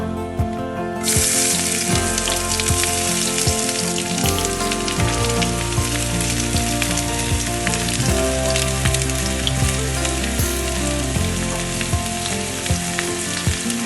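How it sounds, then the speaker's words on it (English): Two finely chopped onions sauteing in four tablespoons of mustard oil in a kadhai, a loud, steady, close sizzle and crackle that runs the whole time with no voices. "This I'm going to saute for about 3 minutes or so till it gets light brown."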